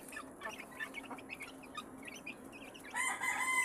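A hen and chickens cluck and chirp in short, scattered calls close by, joined near the end by a louder rooster-like crow, with no talking.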